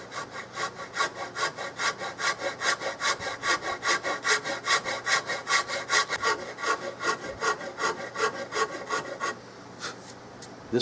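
Rhythmic back-and-forth sanding on the convex outer surfaces of a wooden stock for a Remington Model 700 rifle being converted to a Mannlicher style, a steady close rasping scrub of about forty strokes that stops near the end.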